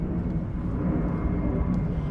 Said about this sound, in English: we've got aeroplanes going over as well